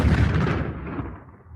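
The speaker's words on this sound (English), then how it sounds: "So the only thing I've got is an explosion." A single old-school explosion sound effect hits with a deep, loud boom at the start and then rumbles away over about a second and a half.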